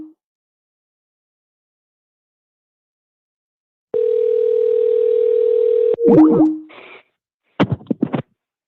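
Steady telephone dial tone during an outgoing call, holding for about two seconds before breaking into short warbling tones, then a brief silence and a few quick clicks and chirps at the end.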